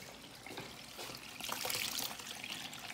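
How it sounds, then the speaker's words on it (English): Tap water runs steadily as hands are rinsed at a sink, a soft, continuous splashing trickle that grows a little louder midway, with no voices. "Come on, just rinse your hands off."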